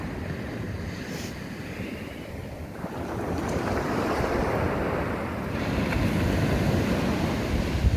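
Steady ocean surf rolls onto the sand at Huntington Beach State Park as the tide comes in, a continuous wash of breaking waves growing slightly louder midway, with wind rumbling against the microphone throughout.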